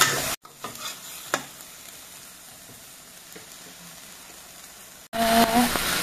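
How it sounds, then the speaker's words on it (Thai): Chicken stir-fried with blanched luk riang in a pan for a southern Thai spicy dish, a steady low sizzle with a few faint stirring knocks, then a louder burst of sizzling at the end. "แล้วเดี๋ยวเราจะมาผัดให้เข้ากัน"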